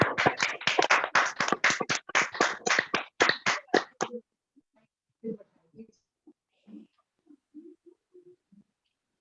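A meeting audience at a business motivation talk claps in a brisk, dense burst that stops abruptly after about four seconds, followed by quiet scattered taps and faint murmuring.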